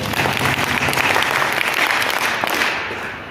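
An audience claps for teachers at a Saraswathi Pooja celebration, a dense, steady round of applause filling the hall and tapering slightly at the end, with no voices over it.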